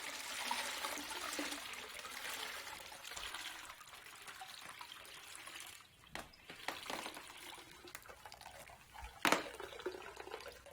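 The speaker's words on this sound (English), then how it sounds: "The fabric is soaked in each bath in turn, starting with the darkest" Fabric is dipped and moved through an indigo dye bath, giving soft continuous sloshing and trickling water with a few sharper splashes and drips, fairly faint and close, with no talk.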